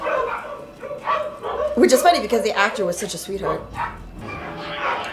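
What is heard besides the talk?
dogs barking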